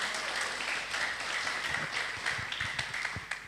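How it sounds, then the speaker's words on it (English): An audience at a public lecture claps to welcome a professor, a steady, moderately loud round of applause that runs unbroken for a few seconds. "We will give big applause to welcome Prof. Jos and share about his topic."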